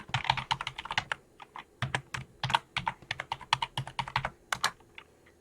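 Rapid keystrokes on a computer keyboard as a username and password are typed into a Profound UI login page, an irregular burst of close, crisp clicks with brief pauses and no speech.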